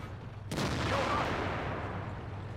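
A tank cannon shell striking the commander's hatch of a Chinese 112 tier 8 heavy tank in World of Tanks: one sudden sharp boom that fades into a rumbling decay, heard alone.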